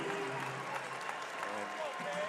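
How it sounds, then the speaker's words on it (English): A basketball crowd at a Bradley Braves home game against Evansville applauds Bradley players, a steady distant clapping and crowd murmur that runs under a commentator's talk throughout. "give these Bradley players a big round of applause for their great efforts tonight"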